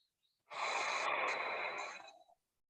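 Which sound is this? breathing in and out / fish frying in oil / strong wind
breathing in and out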